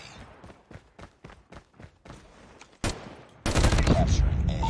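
Assault rifle gunfire in Call of Duty: a run of short spaced shots, then a sharp burst and a loud sustained barrage at the end, with faint game sounds between.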